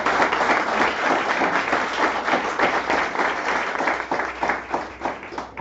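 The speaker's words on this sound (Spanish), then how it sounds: "Denle un aplauso si saben." A church congregation at a Sunday service applauds, dense steady clapping from a large crowd that stays loud for several seconds and starts to thin toward the end.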